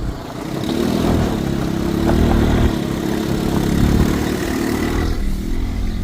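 A Bashan 300 cc 4x4 cargo quad bike idles in neutral, its engine holding a loud, steady low rumble close by for several seconds before easing slightly at the end.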